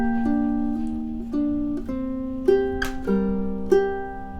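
Ukulele picks out measure 10 of a love theme as a short run of single plucked notes, clear and close, each ringing briefly before the next, with no talking.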